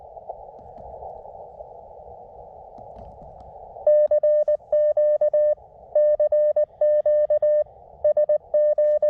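Morse code CW sidetone on a ham radio keys out an accidental CQ call at a park summit station, a steady hiss and faint background giving way to loud, clean beeping tones in rhythmic dot-dash groups.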